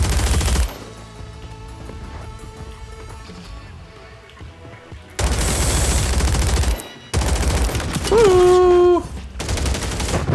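Video game gunfire breaks out in loud automatic bursts between quieter stretches, with a brief tonal effect near the end and a player's voice in the mix.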